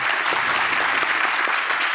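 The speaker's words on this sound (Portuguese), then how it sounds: "Por favor, o aplauso." Studio audience of a TV talk show breaks into sustained, even applause, dense clapping from many people at steady loudness throughout.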